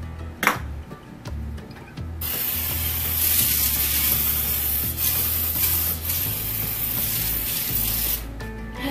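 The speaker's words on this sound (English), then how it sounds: "I'm gonna spray the air fryer." A long, steady hiss of olive oil spray into an air fryer runs for several seconds after a few clicks, then stops abruptly.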